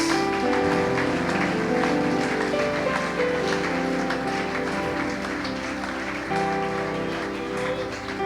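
A church congregation applauds during a sermon, continuous dense clapping over sustained keyboard or organ tones, steady and fairly loud for the whole stretch.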